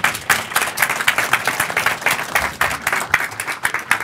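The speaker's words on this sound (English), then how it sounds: "Let's give our speaker a round of applause." An audience at a talk on philanthropy and global poverty gives the speaker a round of applause. The clapping is dense and steady for about four seconds, with no speech over it.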